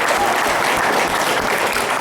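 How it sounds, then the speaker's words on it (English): A live audience claps in a steady, even round of applause, many hands at a moderate level with no pauses and no voices standing out. "Round of applause for Todd McManus"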